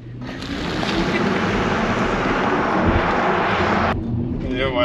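A 2022 BMW iX xDrive50 electric SUV accelerates hard in sport mode, and a loud, steady rush of wind and road noise builds inside the cabin before cutting off abruptly near the end.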